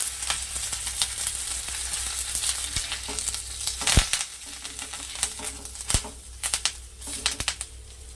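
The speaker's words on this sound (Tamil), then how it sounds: "இருக்கிற மச்ச மீன் மற்ற மீனை வறுத்துக்கலாம்" Fish sizzles and crackles steadily in hot oil in a pan, wrapped in banana leaf, with soft stirring clicks under the continuous frying hiss.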